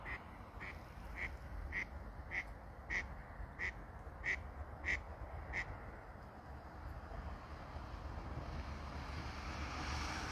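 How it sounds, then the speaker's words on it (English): A duck quacks near a river on rural waterfront land, about eight evenly spaced quacks sounding moderately far off over steady wind noise. "I heard the duck, but I don't see it."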